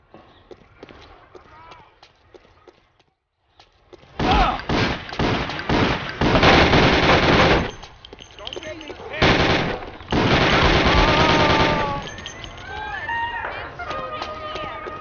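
Bursts of automatic gunfire in Mafia: The City of Lost Heaven, loud rapid volleys in long sustained runs separated by short gaps, with shouting voices around them.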